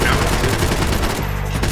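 A short, dense burst of rapid gunfire in the Max Payne 3 shooter game, loud and close, sounding like automatic weapons fire across less than two seconds.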